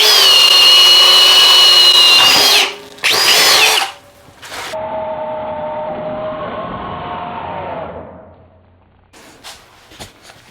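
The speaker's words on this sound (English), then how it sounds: "speed 2, drilling mode" Loud high-pitched whine of a cordless hammer drill boring a hole in drilling mode at speed 2 for nearly three seconds, a brief stop, a short second burst, then a lower steady motor grind that fades away.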